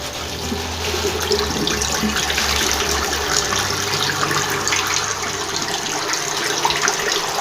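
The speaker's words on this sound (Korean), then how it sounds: "청소를 하고 나니 이렇게 물이 시원하게 잘 내려갑니다" Water rushes and drains freely down a just-cleaned washbasin after its pop-up stopper and trap were cleared, a steady close gurgling flow that continues throughout without talk.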